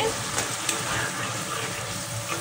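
Rohu fish roe frying in a pan gives off a steady, close crackling sizzle with faint stirring, while a voice speaks lightly in the background.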